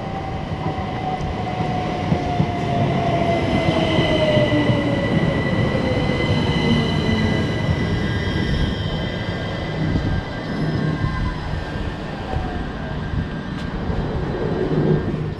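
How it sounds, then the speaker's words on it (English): A C2C train rumbles in loudly and steadily, wheels squealing with a long falling whine as it slows alongside the platform. "And here we can see and hear our train arriving."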